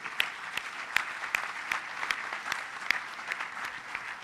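A seated audience at a Brazilian lecture gives steady applause, a dense patter of many hands clapping at a moderate distance with no voices over it.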